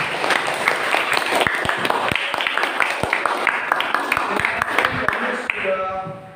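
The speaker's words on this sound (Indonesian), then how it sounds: "Silakan untuk dari sini diberi tepuk tangan yang meriah." Classroom of students clapping for classmates after a lesson, dense applause from many hands filling the room nearby and fading out toward the end.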